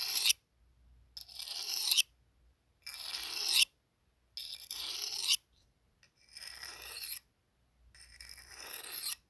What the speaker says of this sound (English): Izuku is sharpening his knife